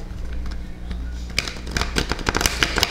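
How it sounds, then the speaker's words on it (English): Tarot cards are shuffled by hand up close, a quick burst of crisp riffling and slapping clicks that grows busier in the second half, with no voice over it. "I'll do another shuffle here."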